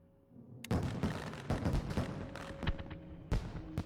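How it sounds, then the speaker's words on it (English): Video game fireworks burst over a casino in a rapid series of sharp, loud booms and crackles, some close together, with no talk. "And now we get a little fireworks show over the casino."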